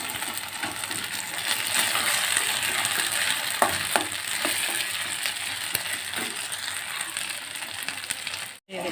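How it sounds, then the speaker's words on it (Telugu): Food fries in a pan with a steady, loud broadband sizzle and occasional clinks of a utensil stirring, ending with a brief cut. "ఇది కూడా కొంచెం ఫ్రై అవ్వాలి దీంట్లో"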